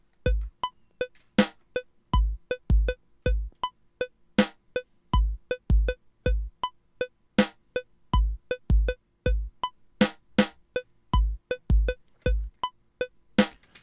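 A drum beat programmed in Cubase, with a punchy kick, sharp snare and ticking hi-hats repeating in a tight, steady loop, loud and alone with no talk.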